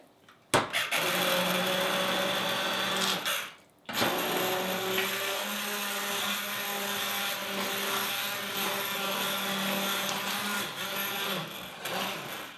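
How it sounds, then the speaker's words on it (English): A stick blender whirs steadily and loudly close by, blending pumpkin ginger soup, with a brief pause partway through before it starts up again and runs on. "We're gonna blend everything with a stick blender."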